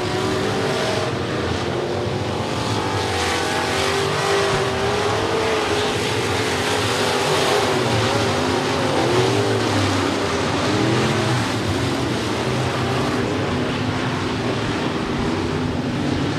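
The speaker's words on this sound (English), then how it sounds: "So now a 3-car battle as Hopkins puts his name in there as well for the 3rd spot" Several race cars battling closely on a racetrack, a loud continuous engine roar with overlapping revving tones as the cars chase each other past, filling the whole stretch without pause.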